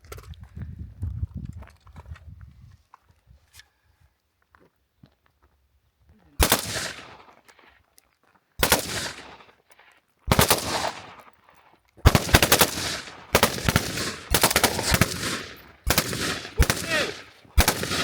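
Firearms go off during shooting drills at a firing range: a few isolated loud cracks, then a rapid run of sharp, close shots with brief gaps between them.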